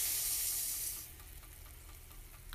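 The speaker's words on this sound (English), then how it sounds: "1 cup of rice into our hot water." Uncooked rice, one cup, pours into a pot of hot water just taken off the heat, giving a loud, bright rushing hiss for about a second that fades into a softer, steady simmering sizzle.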